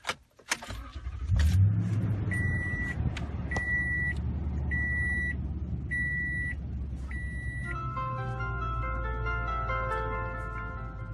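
A 2015 Toyota Tundra pickup cranks and settles into a steady idle, then a series of five evenly spaced electronic chimes from an aftermarket CRUX video interface sounds over the engine, followed by a rising multi-tone start-up jingle.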